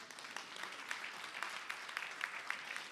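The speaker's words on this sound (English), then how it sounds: "So I got some applause here at Richmond." A church audience in Richmond claps softly and somewhat sparsely, individual hand claps distinguishable in an irregular patter, faint and distant-sounding, with no talk over it.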